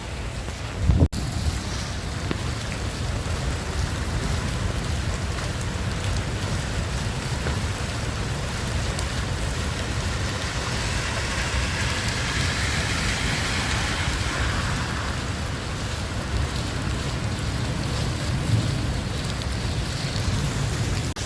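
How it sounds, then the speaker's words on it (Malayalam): Heavy rain pouring down in Al Karama, Dubai, a dense unbroken roar of falling water lasting throughout, with one brief thump near the start and no speech. "നാട്ടിലത്തെ അതേ അവസ്ഥ മഴ എന്ന് പറഞ്ഞ പോലെ പെരും മഴ"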